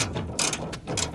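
Quick ratcheting clicks from a wrench turning 8mm bolts on a 2008 Toyota Tundra tailgate, a few close, loud bursts of rapid pawl clicking with short gaps between.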